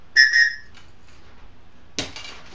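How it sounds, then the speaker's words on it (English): A Tops survival whistle gives two short, shrill blasts close by, followed after a pause by a brief rustle of gear handling. "a knife sharpener, and a whistle,"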